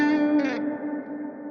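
Hyper-realistic spring reverb from the ReCoil plugin in impulse mode: a bright, twangy processed tone with a metallic spring-like splash that decays with a wobbling, echoing tail over about a second and a half.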